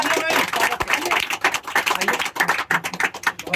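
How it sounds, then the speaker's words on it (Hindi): A brief burst of scattered clapping, uneven and fairly close, fading in and out over a few seconds. "एक बार जोरदार तालियों से"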